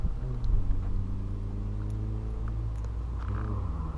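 A VW Gol's engine idles and revs close by, a steady low rumble with a slight rise in pitch toward the end and no voices.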